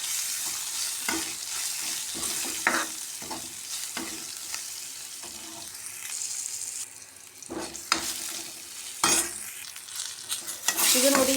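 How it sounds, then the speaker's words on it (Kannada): Curry base with turmeric powder frying in a pan for a curd curry, a low sizzle broken by repeated scraping and clanking stirring strokes at an uneven pace, close and fairly loud, no talk. "ಇವಾಗ ಇದಕ್ಕೆ ಒಳ್ಳೆ ಮಿಕ್ಸ್ ಕೊಡುವ."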